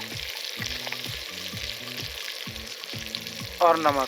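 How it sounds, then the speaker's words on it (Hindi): Red chili, turmeric and coriander powder fry in hot oil for a shahi tadka daal, giving a steady close sizzle with regular stirring scrapes; a voice speaks briefly near the end. "अच्छे तरीके से इसको मिक्स कर देंगे और मसाले को भून लेंगे।"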